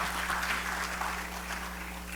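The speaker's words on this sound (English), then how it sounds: "In the afternoon session, people clapped for SUNY Oswego" Audience applause in an afternoon session honoring SUNY Oswego, a steady wash of clapping hands that holds evenly throughout without voices over it, a low hum running beneath.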